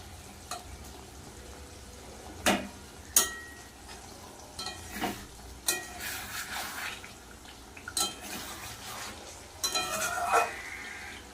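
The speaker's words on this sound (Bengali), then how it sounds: "একটু আলতো হাতে নাড়িয়ে দেব আলুও কিন্তু সিদ্ধ হয়ে গেছে" Whole loitta fish curry with potatoes being gently stirred in a pan, with intermittent soft clinks and scrapes of the spoon over a low simmering bubble and no talking.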